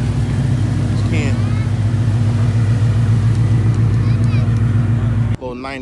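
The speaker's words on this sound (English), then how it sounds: "Little 90s muscle car action." A 1990s muscle car engine rumbles loudly and steadily at a Houston cars-and-cocktails show, a deep idle drone with voices talking over it before it cuts off near the end.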